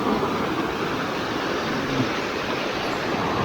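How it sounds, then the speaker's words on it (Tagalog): Broad, roaring rush of ocean water, steady and fairly loud, like a wave surging close by with wind noise mixed in. "Isang alon pa yan."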